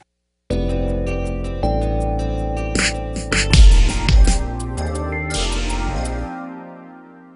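Electronic drum kit playing a steady shuffle groove over a looped play-along backing track, with clear sustained tones and a brief louder fill midway before the sound fades out.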